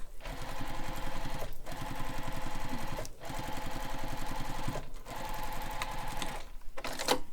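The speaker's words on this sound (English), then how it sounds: "So we're going to baste the sides and the bottom" A sewing machine basts the sides and bottom of a fabric backpack, running in fast, loud, steady stitching bursts of about a second and a half each, separated by brief pauses.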